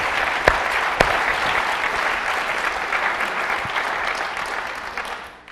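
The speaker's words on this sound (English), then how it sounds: "Yes, that's something to clap about." Sustained, loud applause from a large crowd at a press unveiling of Tomb Raider: The Angel of Darkness for PlayStation 2 fills the whole stretch, with a few sharp claps standing out before it fades at the end.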